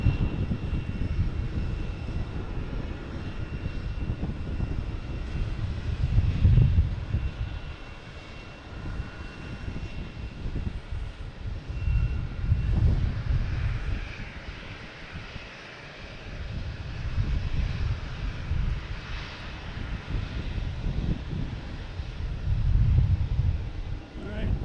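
A JetBlue Embraer E190 jet departs Boston Logan with a steady, moderate engine rumble that rises and falls in waves, along with wind buffeting the microphone and occasional talking.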